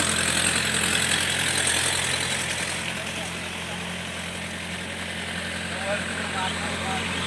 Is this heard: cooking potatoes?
no